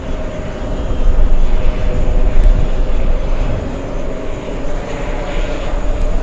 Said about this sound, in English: Let's go for the Delta Airlines arrival.